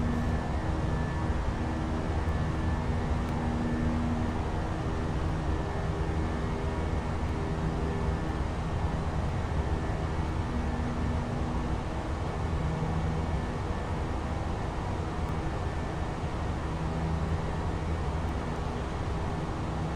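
Fenix A320 airliner climbing after takeoff in Microsoft Flight Simulator, a steady broadband cabin roar of engines and airflow with a low hum, constant and even throughout without talk.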